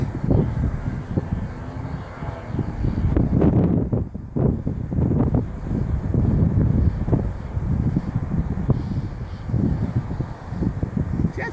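Gusty wind buffeting the microphone at an outdoor model aircraft flying session, a constant low rumbling roar that swells and eases, close and loud throughout.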